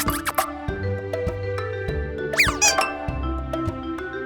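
A cartoonish mouse squeak plays in a children's animal game, high rising and falling chirps over a bouncy musical background, loud and close.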